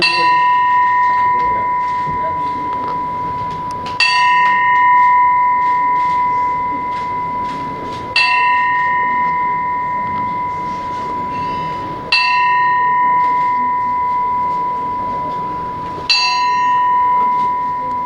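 A bell rings out four times at a Redwood Software technology center opening in Hyderabad, India, each loud, sustained strike about four seconds apart and left to ring and decay before the next.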